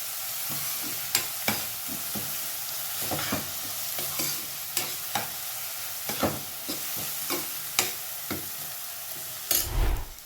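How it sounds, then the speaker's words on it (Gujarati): About a cup of finely chopped onion sautéing in a pan for baingan masala rice: a soft, continuous sizzle broken by regular sharp scrapes of a spoon stirring, fairly quiet and close, with no talking. "ડુંગળીને થોડી વાર સાતળીશું।"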